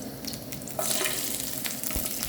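Sliced garlic hits hot oil with red chili peppers in a pan, producing a loud, steady sizzle that jumps up in intensity as the garlic goes in and keeps crackling continuously.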